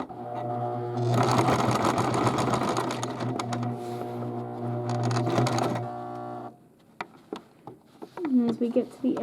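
A sewing machine stitches an insignia patch onto a cap, with a loud, close, steady whirring run, a brief pause, a second run, then a few clicks as a person speaks.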